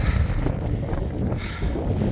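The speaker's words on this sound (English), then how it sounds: "Top of White Cap, windy as F" Strong, gusty wind buffets the microphone in a continuous low roar on the summit of White Cap Mountain on the Appalachian Trail, loud and close throughout, with no voices.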